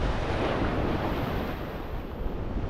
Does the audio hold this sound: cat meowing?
no